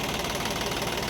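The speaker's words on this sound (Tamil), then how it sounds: "ஸோ இன்ஜின் நாய்ஸ் பாருங்கள் எப்படி இருக்குன்னு." A Massey Ferguson 9500 tractor engine running at a steady idle close by, a continuous rough diesel rumble with a knocking pulse and no voices.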